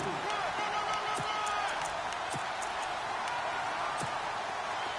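Crowd noise in a video game American football stadium ahead of a big third down, a broad steady roar of cheering with a few sharp thumps, sustained and fairly loud, with commentary-like talk over it.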